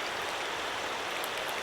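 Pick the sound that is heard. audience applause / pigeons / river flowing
river flowing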